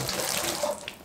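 Two liters of water pour into a portable off-grid shower tank, a brief continuous splashing rush heard up close and fairly loud.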